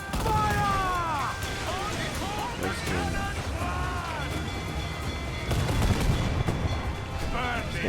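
Ship cannons boom in naval combat in Assassin's Creed Black Flag, heavy blasts under shouted voices and game music, with crew calls and bursts of gunfire layered over a continuous loud wash.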